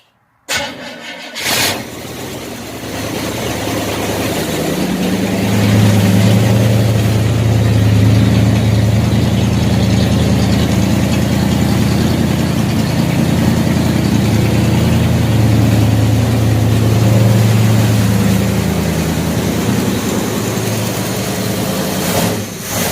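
A 1967 Chevelle SS396 engine idles steadily through a homemade welded exhaust with a deep, throaty rumble, loud and close, running continuously with no voices.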